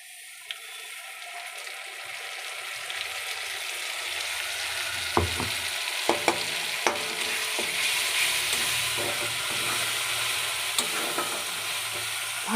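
Ground spice paste fries in a wok with a broad, rising sizzle, while a spatula scrapes and knocks against the metal in scattered sharp clicks, close and continuous with no talking.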